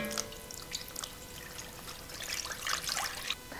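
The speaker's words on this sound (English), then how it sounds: "You'll want to add water in there." Water pours and trickles into a pan of artichokes being prepared Italian-style, a soft, fairly quiet splashing stream that swells toward the end.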